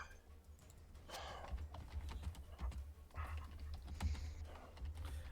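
Quiet typing on a computer keyboard while searching online, bursts of soft key clicks in short runs over a low background hum, faint and close, with no clear talk.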